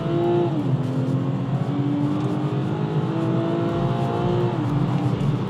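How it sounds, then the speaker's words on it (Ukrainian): A tuned BMW 340i with a B58 engine and upgraded intake and exhaust accelerates hard with the wheels spinning for lack of traction; a loud, close engine drone rises and falls in pitch with a steady whir throughout. "Їде машина дуже гарно, але за рахунок того, що в нас нема зацепу, вона постійно шліфує"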